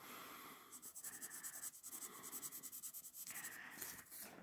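A brown colored pencil scratches across paper in quick, rhythmic back-and-forth strokes, shading a section at a time, with short pauses between bursts, close and steady.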